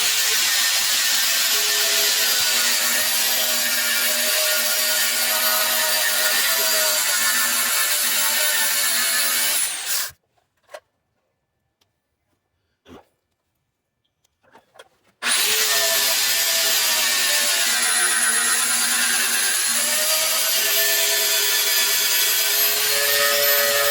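Angle grinder working over welds on a wrecker truck, a loud continuous high whine that runs for about ten seconds, stops for a few seconds of near silence with faint knocks, then starts again and runs steadily.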